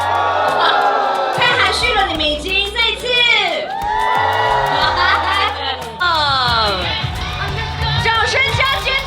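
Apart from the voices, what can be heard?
audience applause and screaming at a premiere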